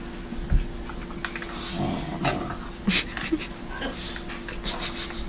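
A dog growls low and close in short rumbling bursts, with some snorting and panting between them in a quiet room.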